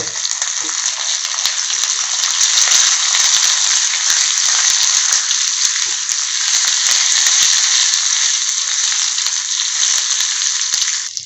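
Shallots, garlic and ridge gourd skin sautéing in a pan, a steady bright sizzle of hot oil running continuously, with faint scrapes and ticks of stirring scattered across it.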